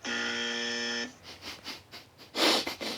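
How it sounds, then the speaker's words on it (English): A loud, steady censor buzzer tone sounds for about a second, followed by breathy sniffs and a burst of breath noise. "Better give me the PG buzzer again."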